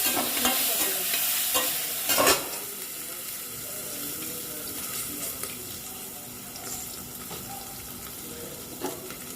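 Green chillies fry in a pan for a brinjal chutney, a steady sizzle running throughout with scraping stirs, a louder clatter near the start and occasional faint knocks.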